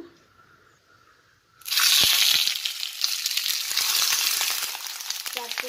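Food hits hot mustard oil on a low flame after a quiet start, and a loud, close sizzle flares up at once. It settles into a steady crackling fry with scattered pops and spits.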